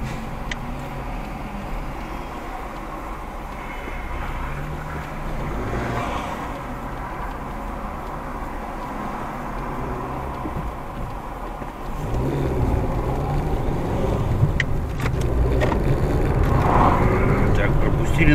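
Yandex Taxi car driving through Sochi at night, heard from inside the cabin: a steady low engine and road rumble that grows louder and rougher in the last few seconds.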